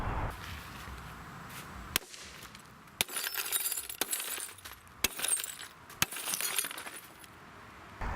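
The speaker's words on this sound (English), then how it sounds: "when the glass shattered, the film appeared to peel away" A glass pane backed with 8 mil window security film shatters under repeated blows, with a series of sharp cracking impacts about a second apart, each followed by bursts of crackling, tinkling glass.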